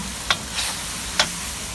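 Chili stir-fried with pork for Thai kaprao at a street stall, with three quick spatula scrapes against the pan over a constant low hiss of frying.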